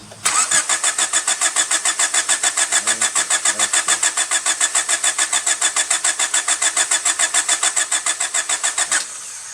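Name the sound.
Honda Civic Del Sol engine cranking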